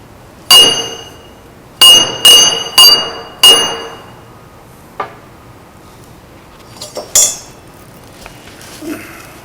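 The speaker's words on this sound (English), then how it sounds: "I'm going to hit this thing with a decent sized hammer in order to transfer the points up in here." Sharp metallic hammer blows on transfer screws set in a steel welding vise part: five loud, ringing strikes in an uneven rhythm close by, then a few lighter taps and clinks as the work settles.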